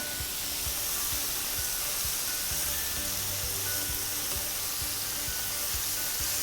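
Battered shrimp deep-fry in hot oil over high heat, a dense, steady sizzle and hiss with scattered small pops, even and moderately close, with no talking.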